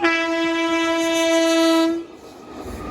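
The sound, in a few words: train passing a railway crossing, horn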